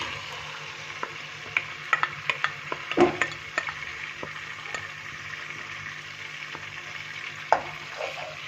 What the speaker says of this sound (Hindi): अच्छा, हमारा ऑयल गर्म हो चुका है, अब इसमें हम ये अनियन ऐड करेंगे।